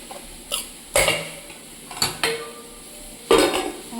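Plates and utensils clatter and clink as rice is served onto dishes, with several separate sharp metallic knocks spaced irregularly, close and fairly loud.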